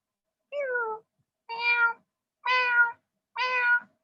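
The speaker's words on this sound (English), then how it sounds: "I also can use this to make you sound like a cat." A human voice run through a voice changer so it sounds like a cat: four distinct meows, evenly spaced about a second apart, each clear and close against silence.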